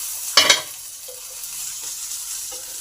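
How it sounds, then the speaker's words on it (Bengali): Carrots and beans fry in a pan with a steady, hissing sizzle, briefly interrupted early on by a louder clatter of stirring. "গাজর আর বিনস ভাজা ভাজা হয়ে এসেছে।"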